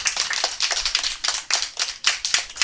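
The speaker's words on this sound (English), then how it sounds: "Let's give Rachel a big clap." A class of first graders claps for a classmate, a brisk, steady patter of many small hands in a classroom that swells and dips in waves and continues without talk.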